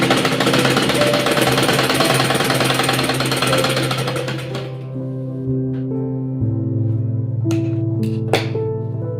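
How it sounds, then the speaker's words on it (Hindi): A sewing machine runs loud and close, stitching a folded seam on a baby girl's dress, with a dense mechanical hum that eases partway through, followed by a lower steady drone and a few sharp clicks near the end. "इस सिलाई को अंदर करते हुए इस तरह से हम मोड़कर सिलाई लगा लेंगे"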